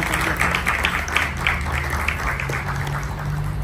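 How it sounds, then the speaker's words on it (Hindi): Audience applause for the poets at a Hindi poetry recital (kavi sammelan) held for World Hindi Day, a steady wash of clapping with no talking. "सभी कवियों के लिए एक बार फिर जोरदार से तालियां दे दें"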